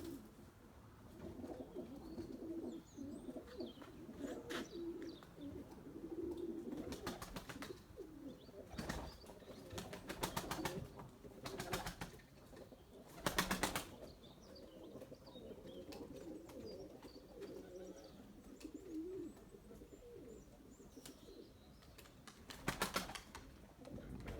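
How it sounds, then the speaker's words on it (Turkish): Pigeons coo softly and repeatedly in a low, murmuring rhythm, with occasional sharp wing flaps and clicks standing out against a quiet background. "Toprağa hasret kalmış kuşlar vallahi."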